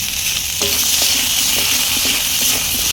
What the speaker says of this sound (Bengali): এখন বেগুনগুলো ভেজে নেব, তার জন্য কড়াইয়ের মধ্যে দিয়ে দিয়েছি হলুদ গুঁড়ো আর একটু লবণ।